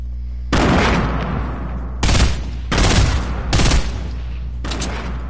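Several grenade explosions go off in a multiplayer video game squad match, four loud, broad blasts in quick irregular succession, each with a rumbling tail, followed by a quieter fifth burst.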